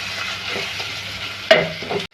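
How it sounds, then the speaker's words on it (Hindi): Chopped onion with ginger garlic paste sizzles steadily in a hot pan, with a sharp scrape of stirring near the end before the sound cuts off. "अदरक लहसुन का पेस्ट इसके अंदर मैं ऐड करूँगी 2 खाने के चमचे, और इसको अच्छी तरीके से जो है बिल्कुल अच्छी तरीके से इसको फ्राई कर लेंगे"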